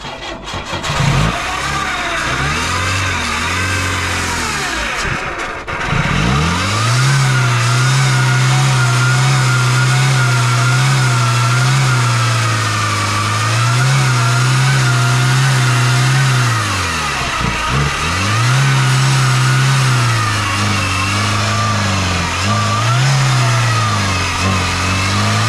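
A 1996 Oldsmobile Cutlass engine being revved up and down repeatedly, loud and close, rising and falling in pitch over a steady idle with a brief dip early on.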